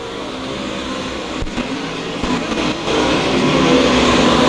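USMTS race cars roar around the Lakeside Speedway oval in a dense, continuous engine drone that swells louder toward the end.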